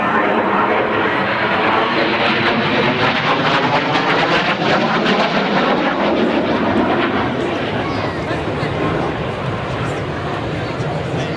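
A Harrier jump jet flies at an air show in Baldonnel, its broad engine roar loud and sustained throughout, slowly shifting in pitch as it passes, with crowd noise faintly underneath.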